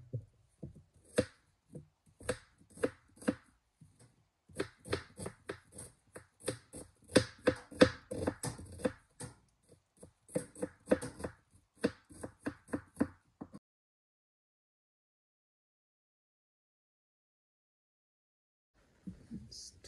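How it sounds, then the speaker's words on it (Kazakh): Potatoes and onions for samsa filling are finely chopped with a knife on a board, a rapid run of crisp close taps for about thirteen seconds, then silence before faint talking at the end. "Картопымыздың, пиязымызды майдалап турап аламыз."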